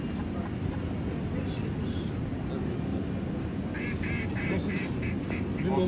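A duck call whistle imitates a white-headed duck at a national whistle-calling championship, giving a run of short, regular quacking notes late in the clip over a loud, steady background rumble.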